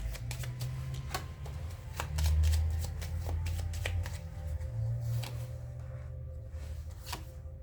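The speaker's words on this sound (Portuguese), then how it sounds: "eu embaralhei as cartas" Tarot cards shuffled with a steady run of crisp, rapid card slaps and riffles up close, continuing without pause over a low background rumble, with no one speaking.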